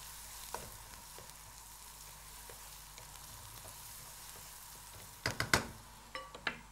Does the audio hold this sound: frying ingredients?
yes